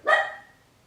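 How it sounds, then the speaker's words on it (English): A single sharp bark from a dog bursts out close and loud, then fades quickly, with no talk. "that's the other dog"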